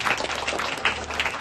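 Loud, continuous applause from an audience at an eighth-anniversary event of a school for children with special needs, dense clapping filling the short stretch without a break.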